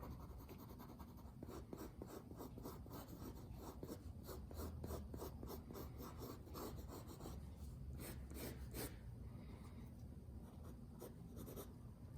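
A hard 2H graphite pencil scratches across paper in rapid back-and-forth strokes, a close, dry, continuous rasp with rhythmic hatching bursts and no voices.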